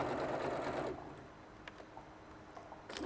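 A sewing machine stitching steadily at close range, its whirring motor loud at first and then dropping to a softer hum with faint clicks and taps.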